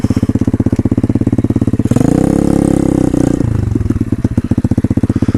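A motorcycle chugs steadily through a flooded area in Podkarpacie, its engine loud and close with a rapid, even pulsing beat, swelling briefly in the middle as it works harder.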